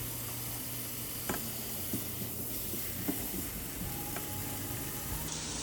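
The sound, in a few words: sauteing garlic and vegetables sizzling in a pan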